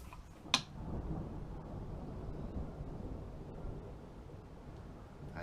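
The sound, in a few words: thunder from a storm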